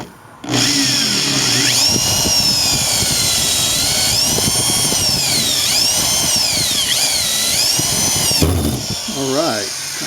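A power drill drives drill point screws into a Chevrolet Silverado spare tire carrier, a loud whirring whine that rises and falls in pitch as each screw bites, continuous for several seconds, with a voice speaking.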